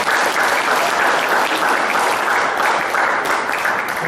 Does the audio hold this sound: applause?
yes